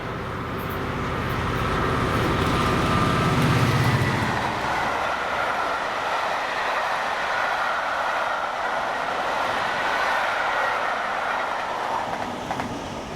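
A Class 66 locomotive hauls a delayed freight of Alcan tank wagons from North Blyth to Fort William past Spital, a loud, steady rumble of wheels and engine that builds early and then holds as the wagons roll by without talk.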